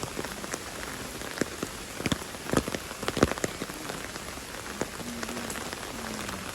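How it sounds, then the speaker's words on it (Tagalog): Rain falls steadily during a trip in Taiwan, a dense patter with scattered sharper drops striking nearby surfaces, alone and fairly close. "Kasi mga ulan eh."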